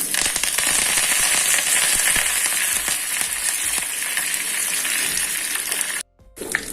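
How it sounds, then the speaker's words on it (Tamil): Curry leaves and dried red chillies crackle and sizzle in hot tempering oil for coconut-milk sambar, a dense, steady frying hiss with sharp pops throughout, briefly cut off near the end. "ஆஃப் பண்ணிட்டு கருவேப்பிலை போடுங்க."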